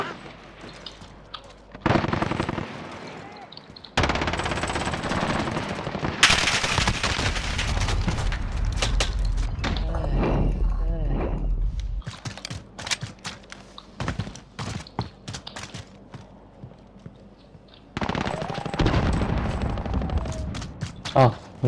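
Bursts of gunfire from Call of Duty: Modern Warfare, loud rapid automatic volleys separated by short pauses, with a voice speaking between and over the shots.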